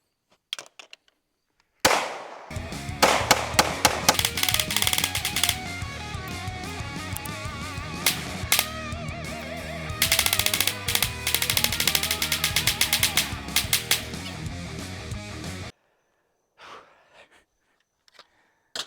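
Rapid, nearly continuous gunfire from an MR920 pistol during a 1,000-round shooting session: loud, dense volleys of sharp shots over roughly fourteen seconds, with brief gaps, then a few scattered reports near the end.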